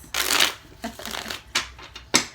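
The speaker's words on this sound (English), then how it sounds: "I try to keep the shuffling on camera to a minimum" Tarot cards are shuffled in several separate bursts, crisp riffling rustles spaced apart by brief pauses, close and fairly loud, with no talking.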